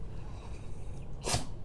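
A single short sneeze bursts out near the end, following a quiet stretch of faint background noise.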